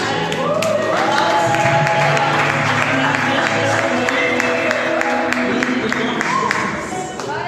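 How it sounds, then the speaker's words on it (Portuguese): A church congregation applauds steadily through a family worship service, the clapping dense and sustained with crowd murmur and tonal music or voices running underneath before it eases off at the end. "Gostei que você aplaudisse o Senhor pela vida da Bárbara."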